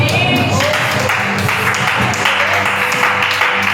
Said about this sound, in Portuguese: Receba o homem de Deus com palmas bem alegres para Jesus